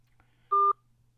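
One short DTMF keypad tone sounds on a phone while moving through a voice menu, a clean, brief beep over a faint low hum with silence on either side.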